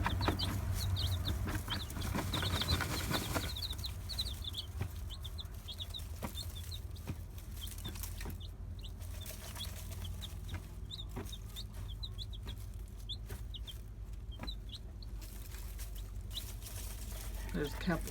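A broody year-old hen clucks softly and repeatedly while dust bathing with her chicks outdoors, the short clucks steady throughout under a constant background hiss, with no talk.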